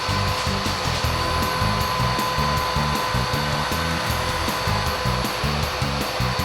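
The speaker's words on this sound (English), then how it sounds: "Then you vacuum up the powder." A vacuum cleaner runs loud and steady, sucking stain-removal powder off a urine-stained carpet with a continuous roaring whine and faint pulsing flutter.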